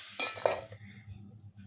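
A lid clanks onto a pan of soybean bhurji with a couple of close metallic clinks, followed by a soft lingering sizzle underneath.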